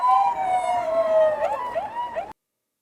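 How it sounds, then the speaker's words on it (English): A police or ambulance siren wails loud and close, its piercing tone gliding up and down for about two seconds, then cutting off abruptly into silence. "The loud, piercing sound of a siren is meant to make you aware of danger and respond quickly."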